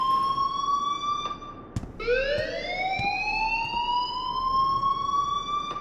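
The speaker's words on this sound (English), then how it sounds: "please turn off that alarm since that's your job" A fire alarm rings in the Life is Strange video game, a loud high electronic tone that cuts out briefly, then rises and holds again, with a few sharp clicks in between.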